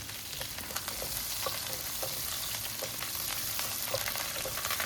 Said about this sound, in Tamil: 100 கிராம் சின்ன வெங்காயத்தை பொடி பொடியாக வெட்டி அதையும் சேர்த்தி நல்லா சாஃப்ட் ஆகிற வரைக்கும் வதக்கிடலாம்